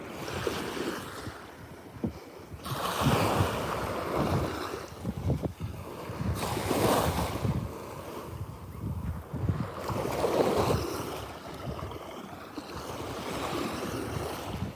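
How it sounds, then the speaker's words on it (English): Ocean surf rolling ashore at sunrise, a steady wash of breaking waves that swells and recedes in broad surges, with wind rumbling across the microphone and no voices. "when I stop talking for a bit and I just listen to the ocean"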